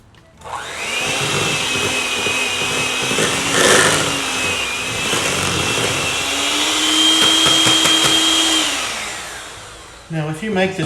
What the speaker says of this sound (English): I wanted to use the mixer so I could get the cream cheese smooth.